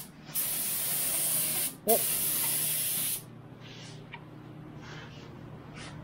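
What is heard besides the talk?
spraying light coats of primer on a Subaru Impreza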